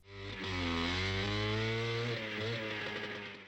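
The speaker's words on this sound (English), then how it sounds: "Meanwhile, this kid's dirt biking in for the festivities" A dirt bike engine revs hard in a graveyard in the horror film Phantasm, a loud, steady mid-pitched engine drone whose pitch wavers and dips midway before climbing again, with no talking over it.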